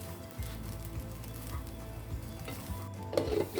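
Quinoa with turmeric powder and salt is stirred in a hot pan, giving a close, steady sizzle broken by repeated scraping strokes of the utensil and a brief clink near the end.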